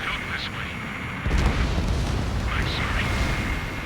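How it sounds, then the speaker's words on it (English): Repeated explosions thunder through a flight combat video game, a dense rolling barrage that swells sharply partway through and keeps booming steadily to the end. "Why am I hearing, like, constant explosions?"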